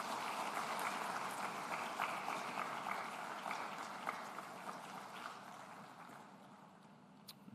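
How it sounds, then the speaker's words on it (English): Graduation-ceremony audience at a university convocation in an auditorium gives a sustained round of applause to parents, steady dense clapping that slowly tapers off over several seconds. "give a good round of applause to your parents in appreciation of their unwavering support and commitment"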